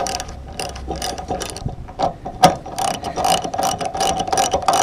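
Ratchet wrench tightening bolts while a 50-inch lightbar goes onto an FJ Cruiser, a close, steady run of rapid clicking strokes with brief pauses between swings, alone without talk.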